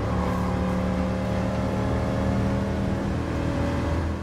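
A 1969 Corvette Stingray driven in GT Sport gives a steady, close engine drone with a low rumbling tone, holding an even pitch throughout with no speech over it.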